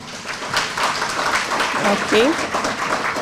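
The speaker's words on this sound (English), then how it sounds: "Give her a big round of applause." An audience at a high school conference at the University of Nairobi gives a round of applause, a moderate, steady patter of clapping heard under a speaker's voice.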